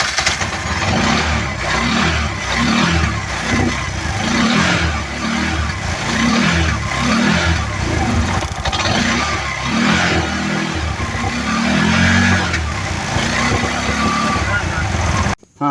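A Bajaj four-stroke single-plug three-wheeler engine starts and keeps running, a loud, steady mechanical chug with some revving swells throughout, close to the microphone.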